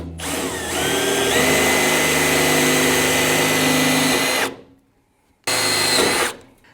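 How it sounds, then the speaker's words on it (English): A power drill with a 3/16 bit whirs loudly and close while drilling into a Toyota Tacoma hood for several seconds, stops, then runs again in a shorter burst. "You're gonna get your 3/16 drill bit."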